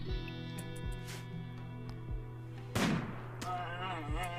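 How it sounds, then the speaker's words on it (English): A single loud gunshot from the Rimworld video game (build B18) cracks out sharply midway, over a steady layer of game music. "One shot, one kill."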